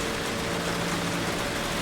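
Heavy rain in a sim racing game set at Daytona, a steady dense hiss that fills the whole clip evenly, with a faint low engine hum underneath and no talking.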